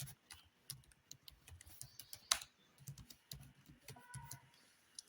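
Typing on a computer keyboard while entering poster design text, a steady patter of light close key clicks in uneven bursts with one sharper tap, quiet and with no voices.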